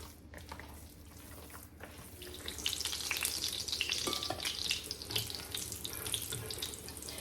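Potato and chicken patties fry with steady sizzling and crackling spatter, growing louder and busier partway through, close and continuous with no one talking.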